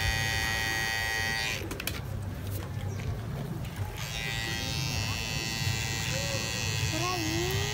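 Electric hair clippers buzz steadily while finishing the neckline of a short social haircut, a close, continuous whine that breaks off briefly and resumes, with faint background voices.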